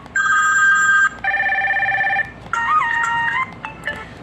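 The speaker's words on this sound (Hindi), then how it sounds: "तो यहाँ आप इसके अंदर 5 रिंगटोन्स हैं" A ME L110 budget mobile phone plays several ringtone previews in turn: bright electronic melodies of repeated tones, each a second or so long, separated by short breaks and heard up close without talk.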